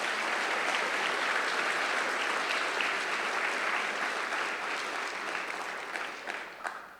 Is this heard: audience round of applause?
yes